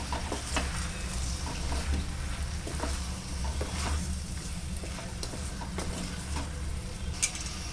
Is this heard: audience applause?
no